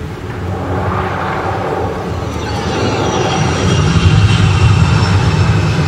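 An airplane landing produces a loud, deep, steady engine roar that swells gradually as it nears, with a rushing rumble throughout and no voices.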